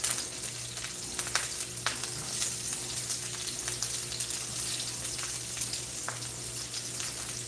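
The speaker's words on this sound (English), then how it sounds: "Try not to burn my onions, child." Onions frying in a pan for jerk chicken, a steady soft sizzle and crackle running throughout with faint pops, close and moderately quiet, with a low hum underneath.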